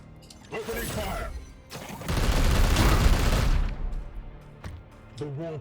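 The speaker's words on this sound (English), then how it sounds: "Opening fire." Bursts of gunfire sound in Warhammer 40K Chaos Gate Daemonhunters, a dense rattling volley building to a loud sustained barrage and then fading, with someone speaking before and after.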